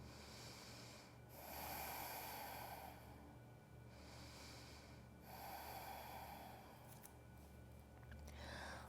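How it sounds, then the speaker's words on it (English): Slow, deep Ujjayi breaths during a yoga flow, each long hissing inhale and exhale rising and falling in a steady rhythm, close and fairly quiet. "Deep Ujjayi breathing."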